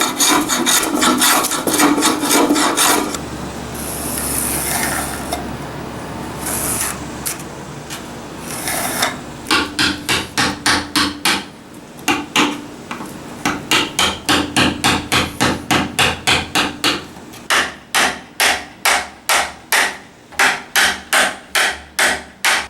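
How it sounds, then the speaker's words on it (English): Chisel or rasp cutting a relief into the wooden foot of a giant Japanese planing board, rubbing and scraping at first, then a long run of sharp, evenly spaced hammer blows close by, with no talk. "going to cut a bit of a relief right in through here"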